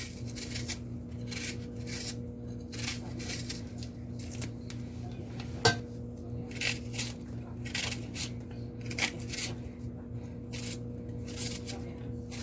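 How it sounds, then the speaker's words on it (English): An onion being cut with a knife on a board, a run of soft rhythmic chopping strokes and slices over a steady electrical hum, fairly quiet and close. "Just going to cut up my onion."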